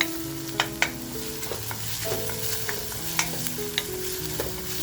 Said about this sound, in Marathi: कांदा बघा आपल्याला छान असा पोळून घ्यायचा आहे, म्हणजे तो लालसर झाला पाहिजे.